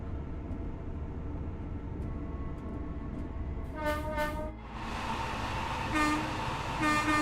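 A train in a train simulator game rumbles steadily along the rails, then sounds its horn in two short blasts followed by a longer, louder horn call, all close and clear with no talking.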